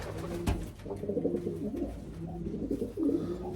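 A racing pigeon coos repeatedly in soft, throaty rolls, close by, with some faint background noise and no talking.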